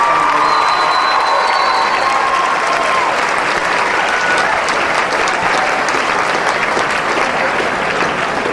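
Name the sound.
audience applause and cheering at a high school event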